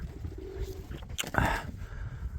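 Pigeons coo softly in a loft, with a low murmuring coo and a brief sharper call partway through over quiet background noise.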